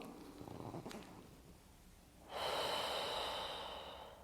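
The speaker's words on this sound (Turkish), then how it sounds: "Al nefes. Al nefes." Deep breaths during a scoliosis exercise in pregnancy, with soft breathing early on, then a loud, sustained rushing breath from about the midpoint that slowly fades, close and with no talk.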